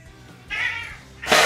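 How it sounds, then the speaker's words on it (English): A cat meows loudly twice in quick succession, the second call brighter and stronger, close by with no talk over it. "Hey, cats, jeez."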